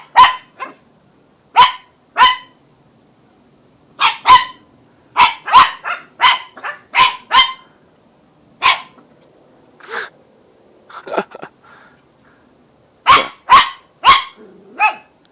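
A chihuahua barks in sharp, high, close yaps, alone or in quick clusters, with short quiet gaps between the runs of barking.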